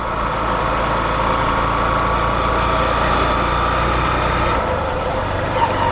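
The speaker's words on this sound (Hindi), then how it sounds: "तो गाइस बाइक बहुत सही से चल रहा है गाइस।" A motorcycle engine runs steadily in fifth gear on a road during a petrol mileage test, a continuous loud drone with strong wind rush that persists without letup, with no talk over it.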